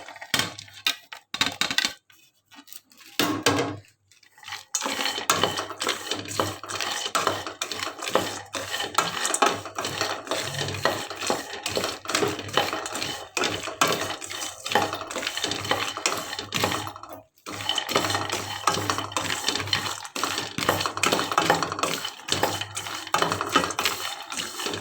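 Almonds, hazelnuts, cashews, walnuts and pistachios roasting in a pan, rattling and clicking continuously as they are stirred and tossed, with a few brief pauses.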